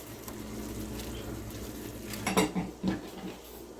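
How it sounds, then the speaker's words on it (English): Beef, onion and matchstick carrots are stirred in a pan, a low steady sizzle under a short cluster of spoon scrapes and clanks against the pan near the end. "And then 1½ cups of matchstick carrots. Give it a good stir."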